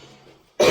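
One sharp, close cough bursts out loudly near the end, after a short quiet stretch of faint room sound.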